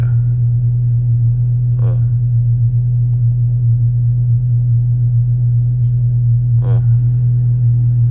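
A Volkswagen Tiguan with a Stage 2 tune idles steadily after start-up, a deep, even engine hum holding constant throughout while someone speaks briefly over it.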